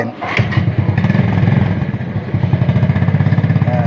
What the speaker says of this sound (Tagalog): Start natin itong aking makina.